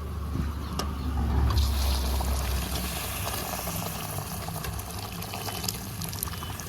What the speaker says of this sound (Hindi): अब ये छोले और छोलों का पानी सहित इधर कढ़ाई में ऐड कर देते हैं हम